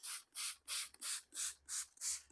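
A hand spray bottle soaks newspaper with water for seed germination, firing about seven short, crisp bursts in a steady rhythm, close and alone.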